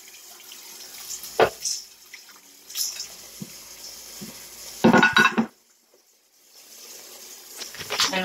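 Cold tap water running over raw chicken in a strainer in a kitchen sink, a steady hiss and splash with louder bursts of rinsing and metallic knocks, then a brief pause before the water resumes.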